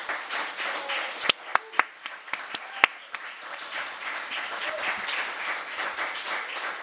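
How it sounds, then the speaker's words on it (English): Audience applause at a heritage forum on culture and climate, a crowd clapping in a hall with several sharp, loud individual claps standing out before the applause settles into a steady patter. "huge applause."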